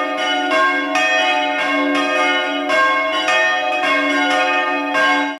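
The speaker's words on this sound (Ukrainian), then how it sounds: "Зранку у Печеніжині б'ють у дзвони." Church bells ring in the morning in the Ukrainian village of Pechenizhyn, calling residents to a public assembly; steady overlapping peals with a strong low hum and rich ringing tones, loud and continuous with repeated strikes roughly every second.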